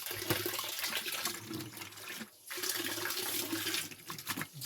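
Water runs from a household faucet fed by a Jet Matic jet pump, a steady close splashing rush that briefly dips in the middle before resuming.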